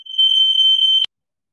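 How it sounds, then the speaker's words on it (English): A smoke or fire alarm sounds a single loud, piercing high-pitched tone for about a second, then cuts off sharply into silence. "I think Roberto is having fire alarms."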